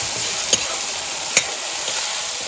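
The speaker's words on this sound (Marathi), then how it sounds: "मिरची आणि लसूणचा ठेचा आता हलवायचं मिरची चांगली उघडते त्याला" Green chili and garlic thecha frying in a pan on a wood-fired village stove, a steady close sizzle with two sharp scrapes of the stirring spoon against the pan, no voices.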